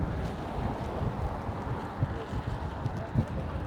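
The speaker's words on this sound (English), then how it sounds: "Oh, it's windy." Wind gusts across an open street in the Latin Quarter of Paris's 5th arrondissement near the Sorbonne, a loud steady rumble of blustery air buffeting the microphone with no talk during it.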